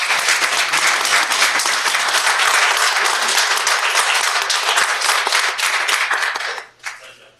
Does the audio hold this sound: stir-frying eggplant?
no